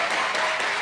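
Applause from an audience at an Islamic religious lecture welcoming the holy month of Ramadan, a brief dense wash of many hands clapping at once, loud and close, with no voices over it.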